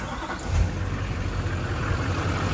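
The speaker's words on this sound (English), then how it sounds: "Now that thing runs full time, starting the engine." A car engine turns over and settles into a steady, rumbling idle, close by with no voices.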